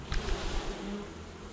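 Honeybees humming steadily during an inspection of a Home Hive, a continuous low buzz of many bees close by with some rustling handling noise at the start.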